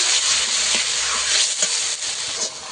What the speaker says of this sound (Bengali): টমেটোটা আমি একটু ভেজে নেব